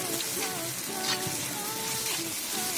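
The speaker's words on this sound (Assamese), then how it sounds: "এতিয়া মছলাখিনি পিয়াজৰ সৈতে ভালদৰে ভাজি লম" A masala paste of ginger, garlic, pepper and cumin fries with onions in a pan, giving a steady close sizzle and crackle throughout with no talking.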